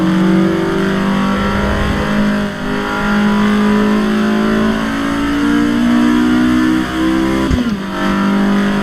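A Caterham in the Assetto Corsa Evo racing game revs hard, its engine a loud, buzzing howl that climbs and drops through gear changes, with a sharp shift near the end.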